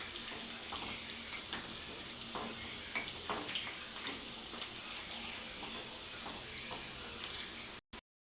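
Pakodi frying in hot oil until golden brown give off a faint, continuous bubbling sizzle with small crackles and pops throughout, heard alone until a brief click and silence at the very end.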